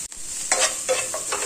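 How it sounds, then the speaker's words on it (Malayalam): Garlic, onion and tomato sautéing in a pan for restaurant-style paneer butter masala, a bright steady sizzle with a few quick stirring scrapes in a short burst, close and with no voices. "ഒരു അഞ്ചല്ലി വെളുത്തുള്ളിയും കൂടെ ഇട്ട് കൊടുക്കാം ഇതൊന്ന് വഴറ്റി കൊടുക്കാം"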